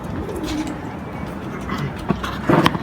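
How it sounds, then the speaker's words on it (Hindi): Rampuri pigeons in a loft give soft, repeated coos close by, with low murmuring calls throughout and a few louder bursts near the end, set against faint background noise. "ये कबूतर जो है काफ़ी ज़बरदस्त कबूतर है"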